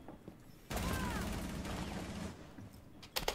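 Rainbow Six Siege gunfire, a sustained burst of rapid automatic shots lasting about two seconds, followed by a few sharp cracks, fairly quiet with a voice faintly underneath.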